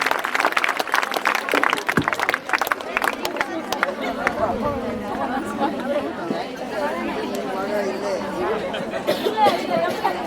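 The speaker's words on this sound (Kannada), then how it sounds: "ಒಂದು ಜೋರಾದ ಚಪ್ಪಾಳೆಯ ಮೂಲಕ" Scattered clapping rises at the start of a government school talent event, then gives way to crowd chatter and several voices talking over each other.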